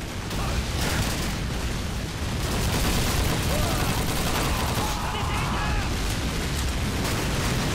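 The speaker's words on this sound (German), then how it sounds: "Noch eine Granate." In Call of Duty 2, a grenade blast and gunfire make a continuous, loud wall of battle noise, with dense rumbling explosions and crackling shots sustained throughout.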